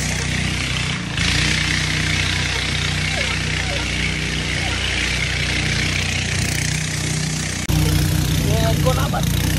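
A running boat's engine on a river trip to Remakri and Nafakhum in Bandarban, a steady loud drone throughout with a slight rise near the end, and voices talking over it.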